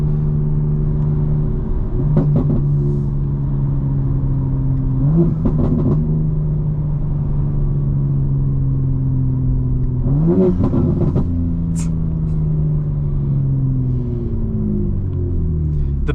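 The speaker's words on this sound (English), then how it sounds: "The best part about this burble is it sounds like burble." A BMW M4 Competition xDrive tuned to 900 horsepower burbles and rumbles at night, its engine note steady with a few short crackling bursts through the exhaust, loud and close, no talk over it.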